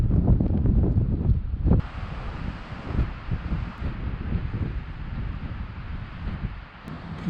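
Strong wind gusts roar across the microphone on a mountain bike trail near Wanaka, New Zealand: a loud rumbling blast that eases into a steadier, softer rush, with no talking.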